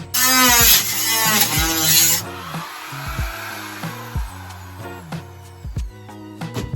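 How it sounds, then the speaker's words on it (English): An angle grinder cuts through metal ribs for a bunk window install, a loud high whining burst up front that drops into a lower rattling drone with repeated clanks and knocks as the cut finishes. "I'll go back to the grinder and finish those cuts, and hopefully those ribs will be off in no time"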